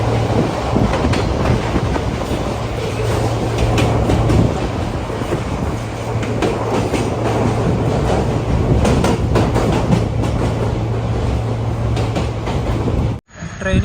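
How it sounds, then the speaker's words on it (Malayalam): The Kanchanjunga Express rumbles along near Haflong with a steady loud roar and rhythmic wheel clatter as it approaches a station, heard from inside a coach, ending in a sudden brief drop-out. "ട്രെയിൻ ഇപ്പോൾ ഒരു സ്റ്റേഷനിലേക്ക് എത്തിക്കൊണ്ടിരിക്കുകയാണ്."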